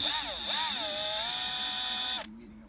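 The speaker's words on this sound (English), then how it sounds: "I'm gonna use a drill and just kind of go in it" A power drill whines at a high pitch while drilling into plastic, its speed dipping and rising under load for about two seconds before cutting off abruptly.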